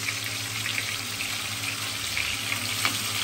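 Ground onion and garlic paste sizzling in hot oil while cooking giant freshwater prawn malai curry, a loud, even hiss close by with faint crackles and no talking.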